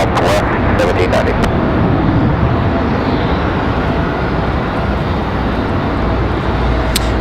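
A Southwest airliner taking off at night from runway 23 left at Raleigh Durham airport, a steady loud broadband jet roar that holds without letting up, with a few faint clicks at the start.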